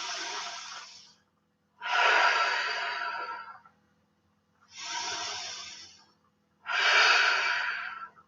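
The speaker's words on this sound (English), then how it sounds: "Two more full deep breaths here." Four slow, full deep breaths during a yoga flow, each a long airy exhale or inhale lasting about a second, separated by short silences, close and clear.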